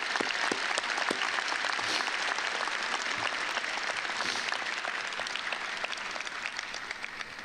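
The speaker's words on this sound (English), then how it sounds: "Let's give a round of applause to the thousands of people that helped bring you here tonight" A graduation audience at the Dolores Silas Class of 2025 ceremony applauds steadily, a dense wash of many hands clapping that holds for several seconds and eases slightly toward the end.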